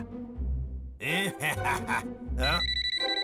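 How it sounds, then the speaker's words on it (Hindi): A phone rings with a bright electronic tone in a cartoon, starting mid-clip and repeating, with a brief beep-like pattern near the end; no clear talking. "अरे ये तो सर का फोन है"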